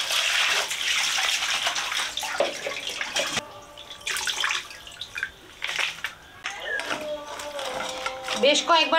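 Water runs and splashes intermittently while small fish are washed by hand in a bowl, close and uneven, with clattering handling in between and someone talking over it.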